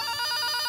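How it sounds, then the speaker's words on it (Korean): A retro Brave/Eldran-series transformation toy with weak batteries gives a short electronic telephone ring, a fast warbling trill heard up close with nothing else over it. "그냥 전화가 오네요"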